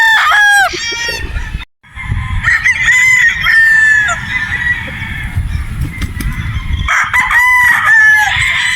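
A straight comb broodstag gamefowl crows loudly and close, several long cock-a-doodle-doo calls running through the clip with short pauses between them, and other fowl cluck and call in the background.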